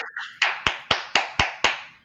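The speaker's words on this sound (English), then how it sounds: "You got people clapping their hands for you." A small group of people clap their hands in six sharp, evenly spaced claps that rise and fade, close by, with no talking.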